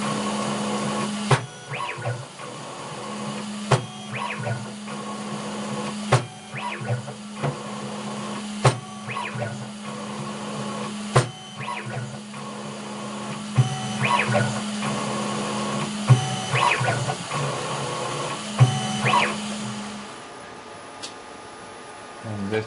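CNC machine under Mach3 control running a threading cycle: a steady motor whine with repeated clicks and periodic tool passes in a regular rhythm, close by, before the machine stops near the end.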